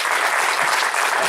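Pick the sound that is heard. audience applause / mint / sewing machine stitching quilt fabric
audience applause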